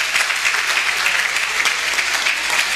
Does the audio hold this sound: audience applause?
yes